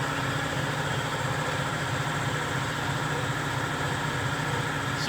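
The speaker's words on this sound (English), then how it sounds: "Sorry it's loud, the compressor is on." An air compressor runs steadily in a workshop during a DIY Raptor Liner bedliner job on a Jeep Wrangler Rubicon Hard Rock, giving a loud, continuous low mechanical drone with no speech.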